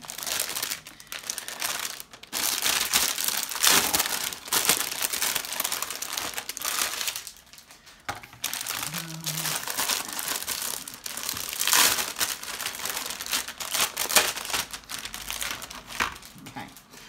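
Warhammer Stormbringer magazines and plastic packaging handled close up, with repeated crinkling and rustling of plastic and paper in irregular bursts, occasional quieter gaps between handling.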